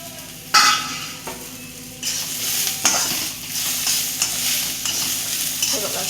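Raw peanuts roast in a thick masala for a spicy bitter gourd curry, with soft sizzling under repeated scraping and stirring strokes of a spoon against the pan, close and without voices.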